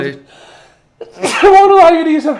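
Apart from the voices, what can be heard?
sneeze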